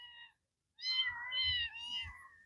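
Calico kitten meowing outdoors on a farm after a windstorm, a short soft mew then two longer, louder plaintive meows close by, with faint low rumble in between.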